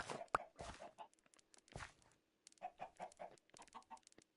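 Chickens clucking in the Minecraft video game: a series of short, distinct clucks in an irregular rhythm, close and clear against near silence.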